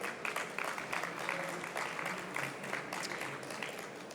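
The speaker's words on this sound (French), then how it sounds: "On l'applaudit" Audience clapping at a data protection conference, a dense, continuous round of applause from a seated crowd, moderately loud with slight swells and dips throughout.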